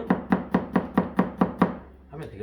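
A knife pull-cuts food on a cutting board in a steady run of seven crisp, evenly spaced chops, close and clear, then stops, with no talk.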